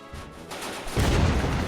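Weapon fire in the video game Mount & Blade: Warband, a short burst of gunfire-like blasts that swells loud near the end of the brief moment, with no talk.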